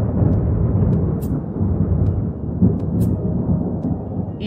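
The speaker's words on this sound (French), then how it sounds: "le ciel devint gris et les éclairs s'abattaient sur le château" Dense rumbling thunder rolls continuously as lightning strikes a castle, a loud low crackle with no break, cartoon-style storm effect.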